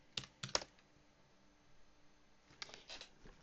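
Quiet clicking of a computer keyboard as a password is typed, two short clusters of keystrokes separated by a pause, close but faint in a hushed room.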